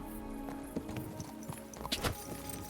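Horse hooves in the video game Kingdom Come: Deliverance 2, several irregular clip-clop thuds over a muffled background, with a louder cluster near the end and no voices.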